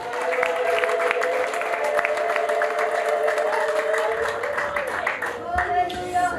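A church congregation claps and applauds steadily throughout, with dense continuous clapping and crowd noise and some voices mixed in.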